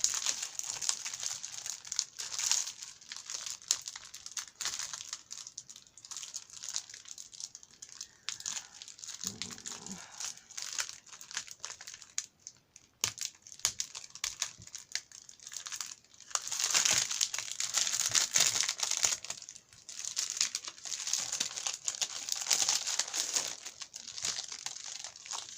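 Paper sheets from a scrapbooking supply haul crinkle and rustle continuously up close, with louder crumpling bursts as they are handled and unpacked.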